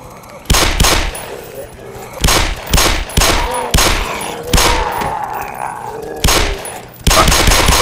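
Loud close bursts of automatic gunfire in the game Black Mesa, repeated volleys separated by brief gaps, with echoing tails between shots.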